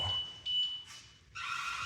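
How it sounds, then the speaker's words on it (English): A security alarm sounds inside Lynnewood Hall, an abandoned mansion, with shrill electronic tones that pulse on and off in uneven bursts, fairly loud and echoing through the empty space. "There's an alarm going off at us right now"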